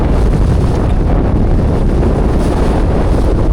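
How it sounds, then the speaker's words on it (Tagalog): Strong wind roars steadily into the microphone near the sea, a loud continuous buffeting rush with a low rumble. "Grabe yung hangin, oh."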